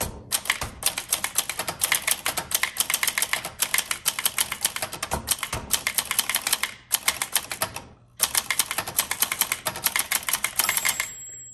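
Keys on a 1965 Montgomery Ward Signature 440T typewriter, a Brother-built vintage machine, clack in quick, continuous bursts of typing, close and crisp, broken by a couple of brief pauses and carriage movements.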